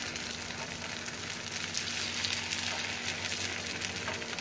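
Red rice paniyaram batter poured into hot oil in a pan, a steady soft sizzle and crackle that runs evenly throughout, fairly quiet and with no voices.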